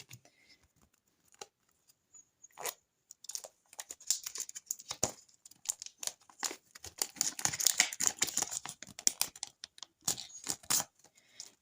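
Crinkly crackling and tearing of thin plastic, starting sparse and growing into a busy, close rustle with short pauses.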